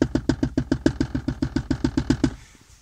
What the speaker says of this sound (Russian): нашел я тот самый петушиный звук на Весте.